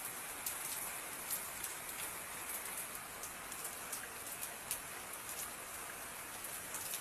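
Steady rain pours down on a garden with climbing vines, a dense, even hiss of drops with small individual taps, constant and close, with no voices.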